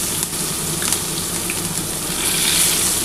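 Chopped onion dropped into hot oil left from frying tangra fish, giving a steady, close, broadband sizzle and hiss that holds evenly throughout with no talking.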